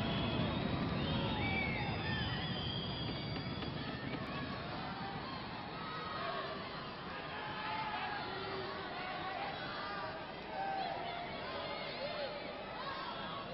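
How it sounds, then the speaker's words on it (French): A large crowd roars and stamps in a packed indoor sports arena during a wrestling bout, a thunderous continuous rumble of cheering and chatter that fills the whole stretch without pause. "C'est un tonnerre dans ce palais des sports quand on trépide."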